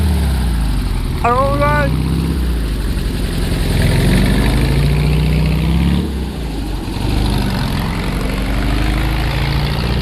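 A classic Volkswagen Beetle's rear-mounted engine idles with a low, steady rumble, close and continuous, while someone speaks briefly over it.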